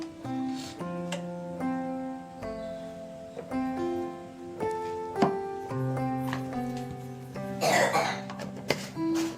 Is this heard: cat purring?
no